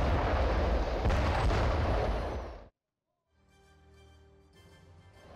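Explosions at the Harda fireworks factory fire in Madhya Pradesh, a dense rumbling roar of blasts for nearly three seconds, then a sudden silence followed by fainter crackling noise.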